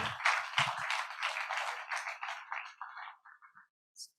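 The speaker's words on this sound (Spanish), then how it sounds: "un aplauso por eso, porque estamos aquí en vivo" A live in-person audience at a finance talk claps in a burst of applause that is fairly close and lively at first, then thins to scattered claps and dies away.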